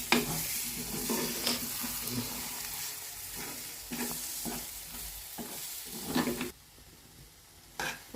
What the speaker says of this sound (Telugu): ఒకసారి కలుపుదామండి.